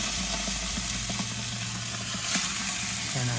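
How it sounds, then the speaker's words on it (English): Honey garlic chicken thighs sizzle and fry skin side up inside a Can Cooker, giving a steady, loud crackling hiss with scattered pops throughout and a brief clatter near the end. "Ooh, look at that fry."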